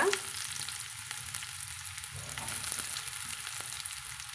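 Small shallots frying in a pan with spluttered mustard seeds, a steady close sizzle with faint stirring and crackle, no voices.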